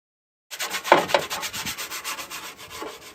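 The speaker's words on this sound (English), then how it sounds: "I have actually already given this a scrub. I'm just giving it one more." Steady back-and-forth scrubbing of the grille on a Citroën 2CV, a close, continuous rhythmic rubbing that starts abruptly and carries on without talk.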